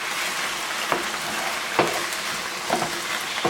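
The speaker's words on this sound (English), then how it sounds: "Give that a stir." A beef and hominy casserole with diced tomatoes is stirred in a pot, a steady wet sizzle with a few soft scraping strokes spaced about a second apart, close and moderately loud with no talking.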